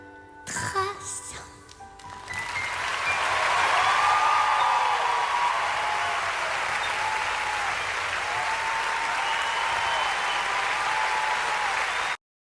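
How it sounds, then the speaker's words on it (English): An audience breaks into applause after a performance of a song: a burst of sound at the start, then a sustained, even wash of clapping and crowd noise that holds for about ten seconds before cutting off abruptly. "Humongous round of applause, y'all already knew."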